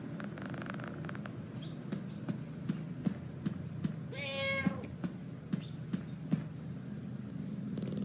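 A cat meows once in Five Nights at Freddy's: Into the Pit, a short, moderately clear cry against a quiet background of light footstep-like taps and soft ambient noise.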